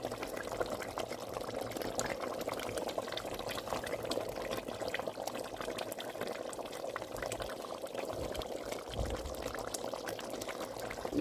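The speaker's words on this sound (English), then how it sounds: "Just stir in our frozen spinach and we'll leave it to cook." Egusi soup simmers and bubbles in a pot as frozen spinach is stirred in, giving a steady, even wet sizzle with no talk over it.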